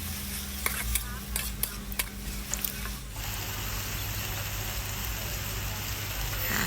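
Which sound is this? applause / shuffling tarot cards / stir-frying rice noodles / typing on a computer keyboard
stir-frying rice noodles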